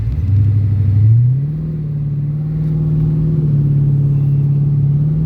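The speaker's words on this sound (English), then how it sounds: "it definitely hit the rev limiter and did not shift" A Dodge Hellcat car launching hard, its engine holding a loud, steady high-rpm drone against the rev limiter without shifting, with a brief surge near the start and no talk.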